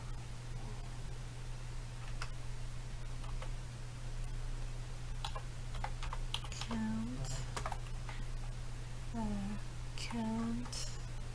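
Someone types a SQL query on a computer keyboard: scattered, close clicks and a few quick bursts of keystrokes over a steady electrical hum, with a voice speaking now and then.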